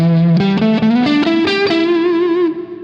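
A Strat electric guitar played through the neck pickup with the bass boosted plays a rising line of distorted notes with a chorus-like shimmer. The notes are thick and loud, ending on a sustained note that fades.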